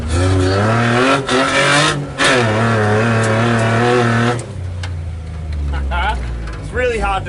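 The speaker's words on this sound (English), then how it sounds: "Engine goes nice." A car engine runs steadily close by with a strong, sustained tone, dropping back partway through, while people talk over it.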